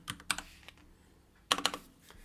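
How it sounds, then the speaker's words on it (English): Quiet computer keyboard typing comes in two short bursts of quick keystrokes separated by a pause, close and soft, with no speech. "I can type."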